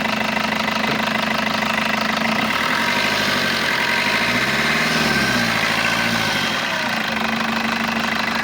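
A Maruti Brezza car engine idles steadily and fairly loudly, a continuous low rumble with a slight knocking texture and a brief wavering dip in pitch midway.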